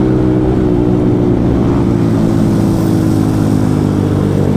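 A Yamaha MT-15 motorcycle engine drones loud and close while riding, a steady buzzing exhaust note with layered harmonics and slight pitch wavering, with no talk over it.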